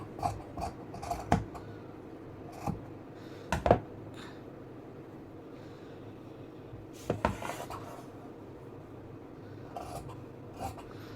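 Scissors cutting fabric for a kurti top's round back neck make faint, sparse snips and slides against a quiet room hush, with a few sharper clicks scattered through.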